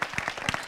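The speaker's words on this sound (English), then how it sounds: "Can we give Bilal, please, a round of applause?" Audience applause after a talk at a dental and orthodontic management seminar, a brief burst of individual claps from a modest crowd in a room, close and fairly loud.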